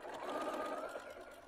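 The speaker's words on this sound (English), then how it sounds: "I just sewed over the pins, but I go really slow so I don't break them" Sewing machine stitching slowly over pins along a mitered quilt corner seam, a soft continuous rhythmic whir heard close and faint without talk.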